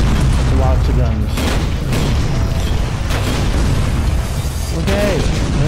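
Dense, continuous gunfire and booming blasts from the first-person shooter game Tower of Guns, loud and relentless throughout with scattered pops and bursts, while a player talks over the action.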